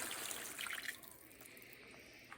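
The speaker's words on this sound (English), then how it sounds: "So now I'm going to add full glass of water," Full glass of water poured into a beef stew pot, a faint splashing trickle that fades after about a second into low background hiss.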